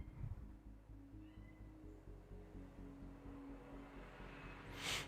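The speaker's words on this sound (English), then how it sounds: "The cat is driving me crazy today." A house cat meows faintly, with a soft yowl near the start and a brighter cry near the end, under a steady low indoor hum and hiss.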